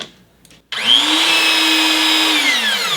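A Metabo HPT portable rebar bender and cutter runs a steady motor whine after a short quiet start, holding an even pitch as it swings the rebar through a full 180-degree bend.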